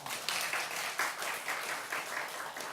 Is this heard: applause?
yes